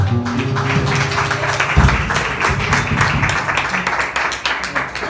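A church congregation applauds in praise of the Lord, a dense, steady wash of clapping lasting several seconds, with music or voices blending underneath.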